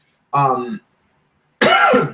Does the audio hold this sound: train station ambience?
no